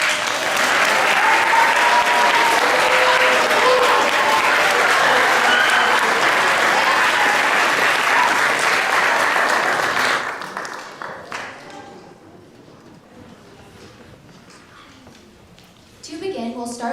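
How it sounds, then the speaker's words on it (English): A school awards-show audience applauds the GMS TV broadcast students with loud, sustained clapping that fills the room for about ten seconds, then drops off to scattered claps and murmuring before rising briefly again. "Everyone clap for our GMS TV students."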